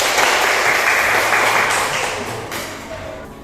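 A classroom of children claps their hands together in a steady, dense burst that fades slightly toward the end, heard close and alone without talk.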